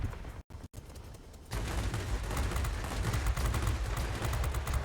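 Me-410 heavy fighter's mixed guns, including 15mm machine guns, rattling in sustained dense bursts during World of Warplanes combat, loud and continuous after a brief quieter lead-in with two short dropouts.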